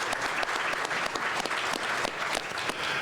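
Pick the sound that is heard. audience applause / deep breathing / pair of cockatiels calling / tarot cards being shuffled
audience applause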